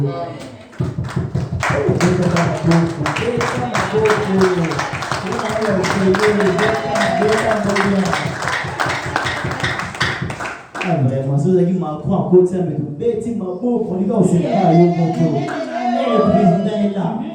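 A church congregation bursts into rhythmic applause, loud and close, steady clapping filling several seconds before giving way to voices and singing.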